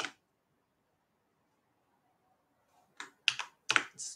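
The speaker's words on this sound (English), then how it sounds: "we're going to type in the current user's password" Password entered on a computer keyboard during a root login command: a short pause, then a few quick clustered keystrokes and clicks, close and moderately loud, with no talk.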